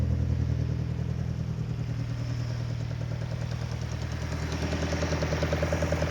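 Kadett GS engine with a Solex C40 ADDHE carburetor running on ethanol, idling roughly and unevenly with a steady pulsing chug, recorded close up with no talk.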